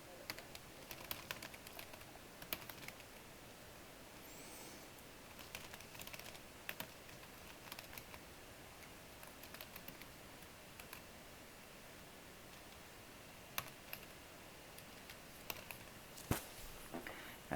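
Typing on a computer keyboard while a workflow is set up: soft, irregular key clicks and taps come in uneven bursts over about eighteen seconds, close but quiet, with occasional sharper strikes and no talking.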